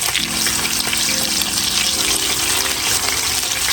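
Blackened catfish is flipped in a hot pan. It gives a strong, continuous close-up sizzle and frying roar that holds steady from start to finish, with no speech.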